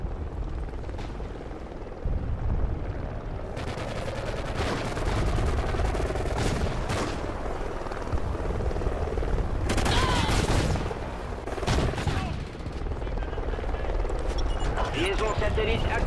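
An enemy helicopter in the video game Call of Duty: Ghosts keeps up a loud, steady rotor rumble throughout, overlaid with bursts of gunfire and explosions, with voices talking intermittently over the din.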